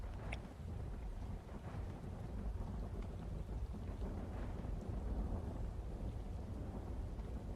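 Steady game-engine rainfall with occasional low rumbling thunder in an Unreal Engine weather system, a dense continuous wash of drops at even loudness throughout with no voices.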